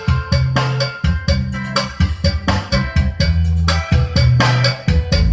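Loud music with a strong, steady bass beat plays through a PA sound system driven by a dbx 223xl crossover and an audio processor during a test, filling the whole stretch without any talk.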